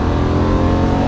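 A Lamborghini Murcielago LP640 Roadster engine roars loud and close in a steady, dense, full-bodied drone for about a second, with no voices over it.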